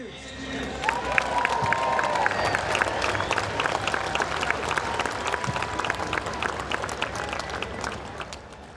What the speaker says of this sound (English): A round of applause for the newest Athletics Hall of Famer, Eddie Joost.